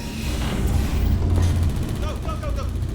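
Turret gunfire in Portal 2 sounds as dense, rattling bursts under a loud booming rumble, with metallic chirps near the end, all over continuous noisy game ambience.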